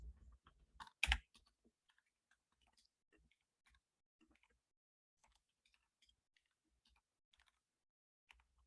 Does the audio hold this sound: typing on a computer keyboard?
yes